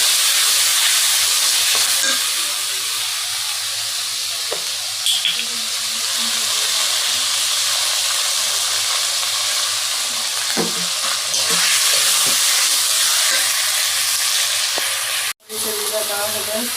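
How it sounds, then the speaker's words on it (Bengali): Spice paste frying and being stirred in a pan while goat tripe is cooked, a steady close sizzle with occasional scrapes of the spoon and a brief clatter near the end, no talking. "এখন আমি রান্নার জন্য এই যে মশলাটা কষাই নিচ্ছি।"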